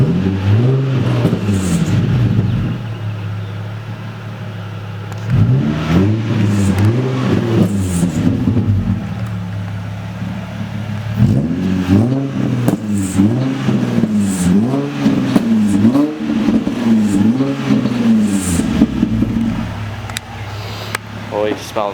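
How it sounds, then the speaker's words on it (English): A car engine with a loud aftermarket exhaust revs in repeated rising and falling bursts close by, idling between revs, while people talk over it. "So I'm gonna give it a little rev."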